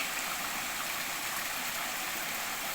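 Steady rushing of water spilling down a small natural waterfall, a constant broadband roar with no pauses or voices.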